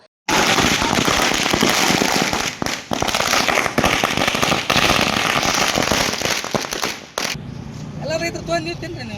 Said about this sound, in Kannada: ಪಟಾಕಿ ಸಿಡಿಸಿ ಸಂಭ್ರಮಿಸಿದ ರೈತರು